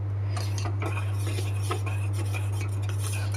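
A spoon clinks and scrapes inside a pot while strong ginger tea is stirred on the stove, with light repeated metallic taps over a steady low hum and no talking.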